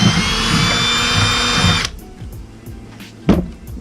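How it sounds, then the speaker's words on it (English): A power drill pre-drills a hole in drywall for an anchor, a loud steady whir lasting almost two seconds before stopping abruptly, followed by quiet handling noises and one brief knock. "These ones you do have to pre-drill."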